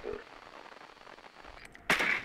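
Gunfire in Rainbow Six Siege on the Yacht map: a faint shot early on, then a loud, sharp blast near the end over a quiet background.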